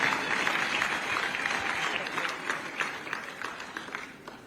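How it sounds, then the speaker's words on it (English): An audience at a continental energy infrastructure and investment forum applauds, a fairly soft, steady patter of many hands that gradually thins out, with some voice-like sound mixed in. "You can clap for me"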